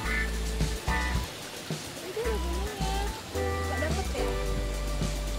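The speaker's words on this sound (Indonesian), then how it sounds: "Kalinya kecil tapi deras." Small, fast-flowing stream rushing steadily near a rice-field villa resort, a continuous watery hiss running under intermittent voices and other background sounds throughout.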